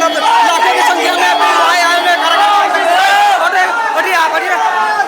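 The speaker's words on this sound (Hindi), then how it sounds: "जो कि बहुत ही अधिक भीड़ है और काफी मतलब लाखों की संख्या में" A huge, dense crowd gathered for Pawan Singh's nomination procession, a continuous roar of many voices with shouting and chanting, close and loud throughout.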